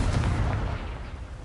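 A Confringo fire spell goes off in Hogwarts Legacy with a loud, dense, rumbling blast that fades out over about a second and a half.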